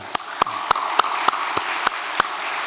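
An audience at a Korean church celebration claps in a steady unison rhythm, about three sharp beats per second, each clap standing out above a constant hiss of crowd noise.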